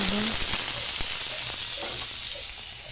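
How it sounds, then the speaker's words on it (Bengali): Corn with onion and green chilli frying in oil in a pan, a continuous close hiss of sizzling with a few soft stirring touches, no voices. "কিছুক্ষণ ধরে আবার ভাজবো"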